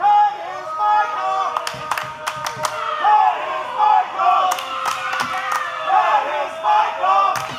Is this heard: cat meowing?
no